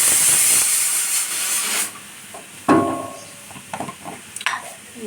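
Whole cumin seeds drop into hot oil in a pan over a medium-low flame while a pumpkin dish is being cooked. A bright hiss is strongest at first and then dies down. A sharp clink follows, with scattered light clatters near the end.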